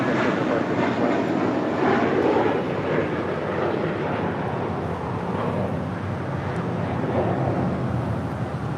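A jet airliner at LAX, rolling on a runway during tower-controlled arrivals and departures: a steady, loud, broadband engine roar that holds for the whole stretch with no voices over it.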